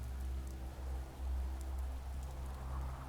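Rain falling on a city in the StarCraft 2 video game, a steady low hiss and patter that stays even throughout, moderately loud, with no voices.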